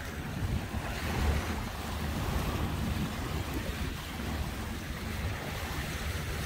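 Surf breaking against Hujin harbor on a rough day, a steady rumbling wash of water mixed with wind buffeting the microphone, continuous and fairly loud with no voices.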